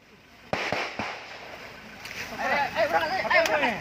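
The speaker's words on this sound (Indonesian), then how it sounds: "inilah suasana kontak tembak yang terjadi saat dua anggota kepolisian" Sharp cracks of gunfire ring out in a firefight between police and an armed group, several shots early and more later, sounding somewhat distant, amid rustling, crackly background noise and voices.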